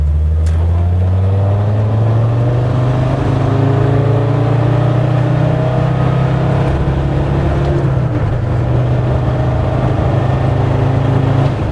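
A tuned Land Rover Defender Td5 90 diesel with a Falcon hybrid turbo accelerates at full throttle in third gear on the road, its engine drone rising steadily and loudly for the whole stretch, close and continuous with no talk.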